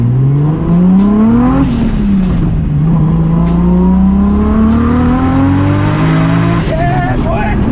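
A 520 WHP RB25-powered Datsun 260Z accelerates hard from the driver's seat, its engine note climbing through gears with a brief dip at each shift, loud and close, with tire noise and occasional chirps.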